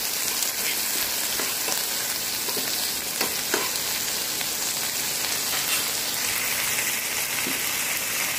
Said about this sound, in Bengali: ভালো করে নেড়ে চেড়ে এটাকে আমি একটু মিশিয়ে নিচ্ছি।